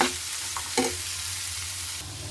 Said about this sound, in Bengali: পেঁপেটাকে একটুখানি ঘিয়ে নাড়াচাড়া করে নিচ্ছি।